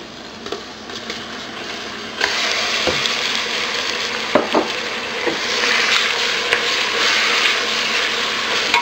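Beef with garlic sizzles steadily in a pan, a loud continuous frying hiss with occasional sharp taps and scrapes from stirring, close by and with no voices.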